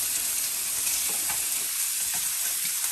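Thin beef strips for burritos frying in a pan, a continuous moderate sizzle with faint crackles and light stirring sounds throughout, no talking.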